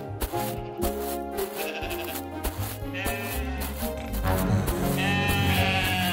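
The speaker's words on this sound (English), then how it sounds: "there were sheep passing by in search of food" Sheep bleat repeatedly while passing by, several overlapping cries over a busy background of other sounds, fairly close and loud throughout.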